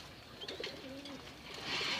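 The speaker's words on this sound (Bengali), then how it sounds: "এখানে এক জোড়া বাঘা কবুতর," A pair of Bagha pigeons coo softly, low and brief, at a slight distance over a steady background hiss.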